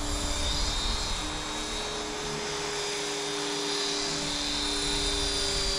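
A T-Rex 500 RC helicopter with a torque tube tail whines steadily in flight, a loud continuous high-pitched motor and rotor drone with a slight swell and dip.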